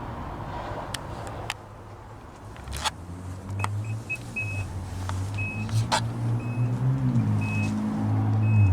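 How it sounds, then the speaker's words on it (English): Power-folding third-row seats in a 2024 Nissan Armada Platinum, a low electric motor hum rising and sustaining inside the cabin, with soft clicks and a repeating faint chime beeping over it. "with these switches you can power fold up and down the third row seats"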